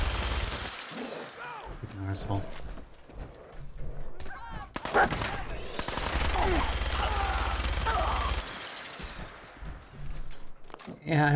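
Minigun in Fallout 4 spraying dense, loud rounds, with a long sustained stretch of rapid fire among scattered shots and impacts, while someone talks over the gunfire.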